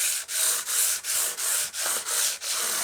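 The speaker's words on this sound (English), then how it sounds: "this is a 400 grit pad, and I'm just going to very lightly" A 400 grit pad lightly sands guitar frets in steady back-and-forth strokes, about eight even swishes of close, bright abrasive rubbing with brief pauses between them and no voices.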